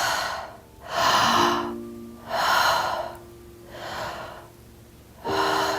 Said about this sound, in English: 360 breath, breathing in, inhale and exhale.